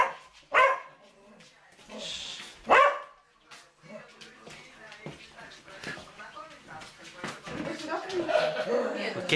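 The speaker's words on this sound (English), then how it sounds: "this is her friendly dog" A friendly house dog gives a couple of sharp barks in a home interior, mixed in among people talking and a chuckle.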